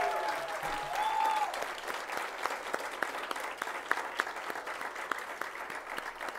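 Sustained audience applause at the closing plenary ceremony of a national conference, dense and steady clapping from a large hall crowd, with a faint voice briefly audible near the start.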